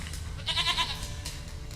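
A goat in The Witcher 3 bleats in a short wavering cry over a low ambient hum, fairly close and alone without any speech.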